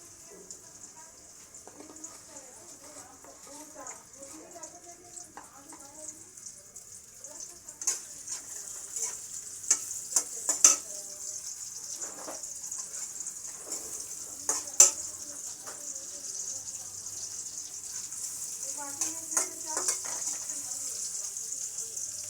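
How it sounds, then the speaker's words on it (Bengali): Onion fries in sunflower oil with a continuous bright hiss, broken by scattered utensil clicks and clatter, while a person talks intermittently nearby. "সানফ্লাওয়ার দু চামচের মতন দিলাম পেঁয়াজটা ভাজবো"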